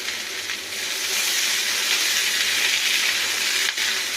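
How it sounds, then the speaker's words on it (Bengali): Two bay leaves dropped into hot oil for aloo posto give a steady, loud sizzle and hiss close by, broadening after the first half-second and continuing without break to the end. "এখানে দিয়ে নেবো দুটো তেজপাতা"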